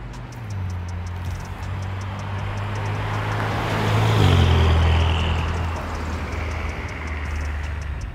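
A BMW M5 F10 sports car drives with a steady low engine drone and road rumble, swelling louder midway as it accelerates, then settling back.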